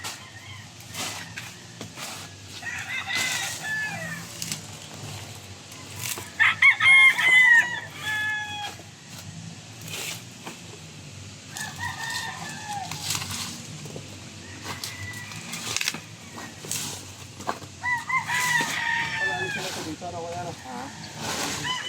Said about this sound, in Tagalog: Dami ng manok pala ni ano, ni Idol Bong Revilla.